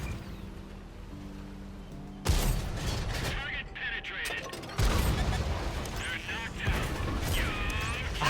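Tank cannon fire in the World of Tanks video game: two loud, sudden blasts a couple of seconds apart, each followed by rumbling, clanking battle noise and a lower mechanical hum.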